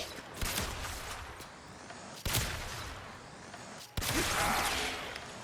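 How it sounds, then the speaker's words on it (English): Gunfire and small Blast status explosions go off in the sci-fi shooter game Warframe, with dense continuous firing and a few sharp bursts that jump louder, with no talking over them. "If you shoot a guy and they get up to 10 procs, or they die, you get an explosion."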